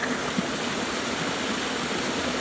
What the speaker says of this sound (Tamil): தண்ணி வந்து பம்பிங் மூலியமாக எந்த அளவுக்கு வருது பாருங்கள்